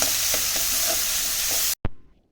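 Ginger garlic paste sautéing in a pan, a steady close sizzle with light stirring scrapes that cuts off abruptly, followed by a brief clink.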